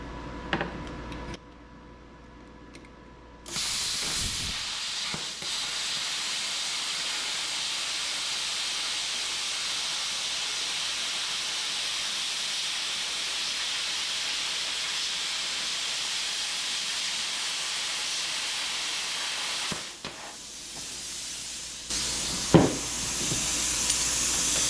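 A Bestarc BTC500DP plasma cutter slices through aluminum with a steady loud hiss lasting about fifteen seconds, then cuts off, followed by a brief clatter and another short burst.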